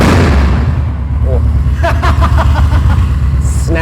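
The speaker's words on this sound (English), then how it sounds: "Give it a good rev." A custom bagger motorcycle's engine revs loud and close, a heavy continuous rumble with sharp throttle blips and pops building through the middle.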